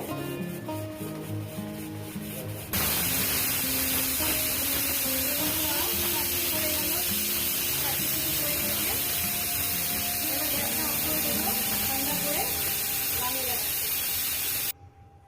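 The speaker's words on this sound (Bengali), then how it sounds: "এবার প্রেশার কুকারে সিটি দেবো আমি তিন থেকে চারটি" A pressure cooker of mutton curry lets out one long, loud, hissing steam whistle that lasts about twelve seconds and then cuts off sharply, following a quieter stretch of kitchen sounds.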